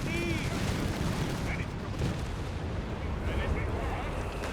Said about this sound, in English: Flak 36 at the ready. Covering the southern approach now with its 88mm gun.